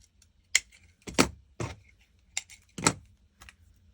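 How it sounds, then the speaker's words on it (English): Scissors cut mirror card foliage into small pieces for Christmas card making. Several crisp, close snips come in a loose, irregular rhythm with short quiet gaps between them. "Just going to cut these down into a few pieces."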